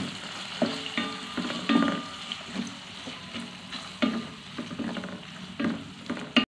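Tomato pieces frying with ginger and garlic in a pan, a steady close sizzle broken by repeated scraping stir strokes and occasional louder spatters, with no talk.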